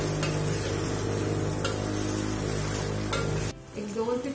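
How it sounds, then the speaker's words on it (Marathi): Prawns being stir-fried with green masala paste in a pan, a steady loud sizzle with stirring scrapes running for about three and a half seconds before dropping away to quieter sounds. "हिरवं वाटण घातल्यानंतर मस्त आपण परतवून घ्यायचं आहे पुन्हा आणि 1 ते 2 मिनिटांसाठी पुन्हा शिजून घ्यायचं."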